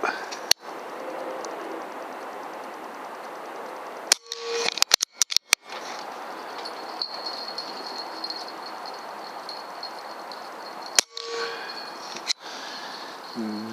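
An air rifle fires Air Arms Diabolo Field 16 grain pellets in a five-shot group: a few sharp, close cracks, with one quick cluster of clicks near the middle, over a steady background hiss.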